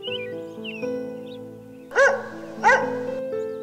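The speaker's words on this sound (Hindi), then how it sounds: "हाँ हाँ, मैं हूँ एक प्यारा सा कुत्ता।" Two sharp dog barks ring out about half a second apart over soft background music.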